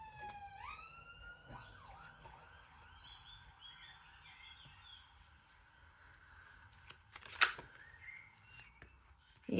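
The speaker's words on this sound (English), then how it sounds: "Confirmation siren." A wailing siren sweeps up and holds a long tone, then a sharp burst of noise cuts in near the end.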